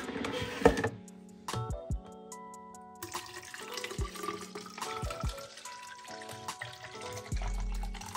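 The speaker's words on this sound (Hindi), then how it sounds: "इसको फ़िल कर लेते हैं, गर्म पानी से करती हूँ क्योंकि ठंड बहुत ज़्यादा है यहाँ पर" Hot water pours into a bottle in a cold setting, heard as intermittent splashing and gurgling bursts broken by short pauses, with clinks and handling noises between pours.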